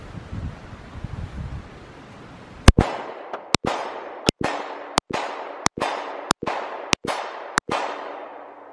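Eight sharp pistol shots ring out at an even pace from a compact Walther PPS M2 or M&P Shield. Each crack is loud and close, with a short outdoor echo fading after it and faint wind noise underneath.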